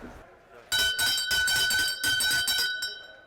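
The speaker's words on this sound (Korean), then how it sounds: "경매를 알리는 종소리는 오늘도 힘찹니다" A bell rung rapidly by hand at the squid auction hall of Jeodong harbor on Ulleungdo, announcing the start of bidding: a loud, bright, continuous clanging for about two seconds after a quiet start.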